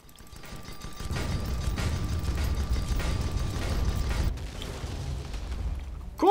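Cannon fire and clattering deck mechanisms aboard an airship in the Guns of Icarus game, a dense, sustained rumble of booms and creaks that stays loud for several seconds before easing off.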